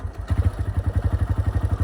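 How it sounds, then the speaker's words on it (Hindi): The engine of a TVS Raider motorcycle, two years old, idles close by with a quick, even thumping beat. It is loud and steady, and there is no talk over it. "भाई मेरी बाइक का इंजन कैसी साउंड करता है"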